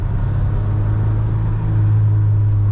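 A 1989 Ford Ranger pickup with low original mileage, its engine droning steadily and loud from inside the cab during a downshift into second gear, a constant low rumble with no one speaking.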